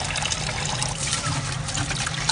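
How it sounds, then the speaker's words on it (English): Water trickling and splashing as soaked mandi rice is rinsed for prawn mandi, a steady close wash of liquid with a low hum underneath. "You rinse a bit first lah, maybe 1 or 2 times lah."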